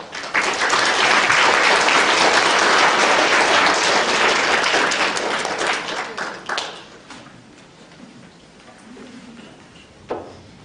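Sustained applause from a large evening lecture audience welcoming a guest speaker, loud and dense for about six seconds, then tapering off into scattered claps and room noise, with one last isolated clap near the end.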